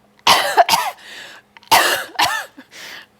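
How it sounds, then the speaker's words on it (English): Two bursts of coughing, each a pair of harsh coughs, from a person holding a plate at arm's length in a mask-efficacy biology lab setup; close and loud, separated by a short pause, with no talk. "go ahead and cough a couple of times"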